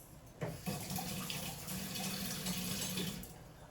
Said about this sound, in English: And then we rinse this.